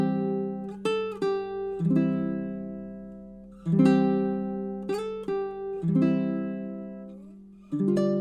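"Silent Night" strummed on ukulele, with several chords sounded in a slow, gentle rhythm. Each strum rings out and fades before the next one, played alone and close with no voices.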